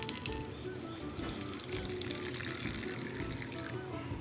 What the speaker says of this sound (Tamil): இந்த மாதிரி பவுல் எடுத்துக்கணும். அதுல தண்ணி ஊத்திக்கணும்.